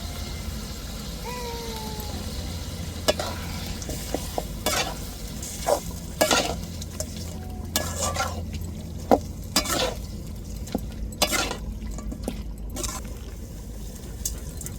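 Curry leaves hit hot oil in a pan of chicken curry, giving a steady sizzle under repeated sharp scrapes and knocks of a spoon stirring against the pan, close and continuous.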